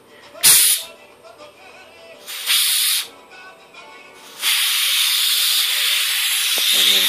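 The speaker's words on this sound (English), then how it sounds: "here I've got a tank of oxygen, and if I crack this tank" Oxygen rushes from a cracked-open oxygen tank valve in steady broadband hissing bursts, short puffs first and then a long continuous loud hiss, close to the microphone with no talking.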